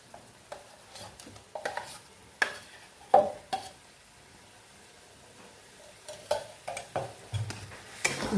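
Ground jackfruit seed paste being stirred into a pot of dal, with a spoon scraping and clacking against the pot in irregular strokes and a faint sizzle underneath, close and fairly quiet, no talking.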